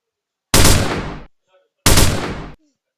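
Two loud separate bursts of gunfire, each lasting under a second and ending in quiet, as weapons are tested on dummies in a Roblox video game.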